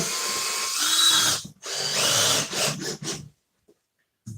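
A power drill drives screws into a scenic backdrop with several close, loud whirring bursts separated by short pauses, then stops into near silence.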